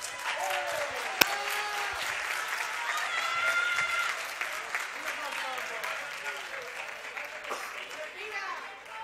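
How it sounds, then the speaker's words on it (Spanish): Crowd applause for teams at a LEGO robot competition, dense continuous clapping and cheering that holds for several seconds, with voices mixed in and one sharp click early on. "por favor, un fuerte aplauso, el último que les pido, a FG Girls y el Team Fire"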